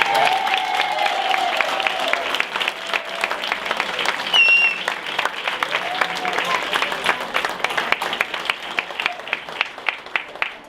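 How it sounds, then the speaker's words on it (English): An audience gives a long round of applause for a committee at the close of an event, dense clapping that thins into scattered individual claps toward the end, with faint voices mixed in. "let's give a great round of applause to the committee"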